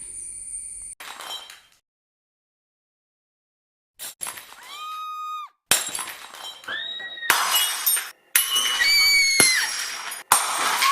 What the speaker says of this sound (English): The husband then began to lift and smash the earthen pots one by one.